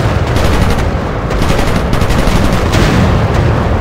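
WW1 fighter planes fire machine guns in Warplanes while defending an urban train, a dense, loud, continuous rattle of rapid bursts with a few brief gaps and no talking.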